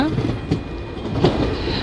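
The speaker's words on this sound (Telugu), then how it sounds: "పెండేకల్ జంక్షన్ రైల్వే స్టేషన్ నుంచి బయలుదేరిపోయామండి" A DEMU train pulls out of Pendekal junction, heard from inside the carriage as a steady loud rumble with clickety-clack wheel beats; voices murmur in the background.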